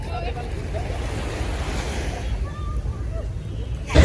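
Waves wash onto the beach at Sidi Bishr in Alexandria, a steady close surf rush mixed with wind buffeting the microphone, with a faint voice in the background.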